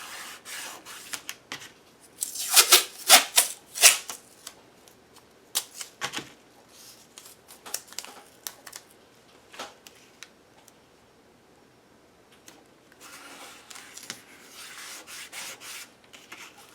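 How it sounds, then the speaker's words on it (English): Strips of black masking tape are pulled off and pressed along the edges of a postcard, with bursts of ripping and rubbing close up, loudest early on, then softer scattered handling noises. "Put masking tape on either edge,"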